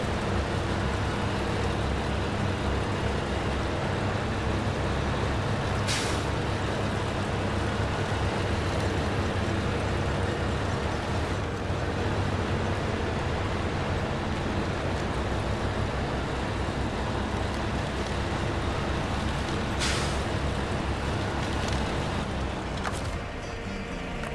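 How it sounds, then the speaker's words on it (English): A truck in the SnowRunner video game drives on with a steady, dense engine rumble throughout, broken only by a few brief clicks. "Go ahead and move this truck out of this area here"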